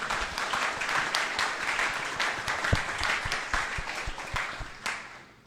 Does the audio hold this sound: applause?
yes